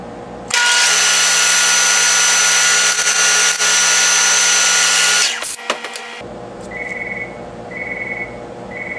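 A lathe machines a chamfer on a small probe tip with a loud, steady high whine for about five seconds. It cuts off with a few clatters, then a quieter hum with soft repeating beeps follows.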